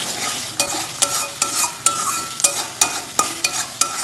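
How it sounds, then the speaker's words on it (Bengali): Cumin, coriander powder, chili powder, sugar and salt fry in oil for a Bengali pabda fish curry, sizzling steadily while a spatula stirs and scrapes the pan in sharp, regular strokes about every half second. "সব কিছুকে আবার তেলের সাথে ভালো করে কষিয়ে নেব।"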